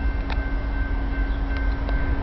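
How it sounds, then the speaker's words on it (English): A CSX train moves slowly past, a low rumbling drone with a steady humming tone above it and a few faint clicks from the rails. "Sorry guys, the train's a little bit slow"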